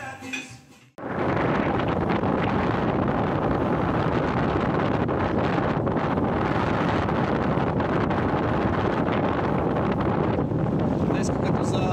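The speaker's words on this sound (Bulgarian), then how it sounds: "вятъра е жестоко силен" Fierce wind by a canal on Lefkada batters the microphone in a continuous heavy roar that starts abruptly after a brief quieter moment and never lets up.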